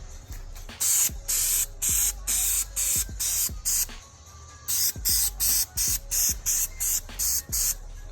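Spray paint hisses from a can onto the fog lights and grille of a Lexus IS300, in about a dozen short, sharp bursts with brief gaps and a pause in the middle, close and loud with no voices.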